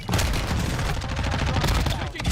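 Dense, loud video game gunfire with overlapping shots and blasts rolls on without a break, close and filling the whole stretch.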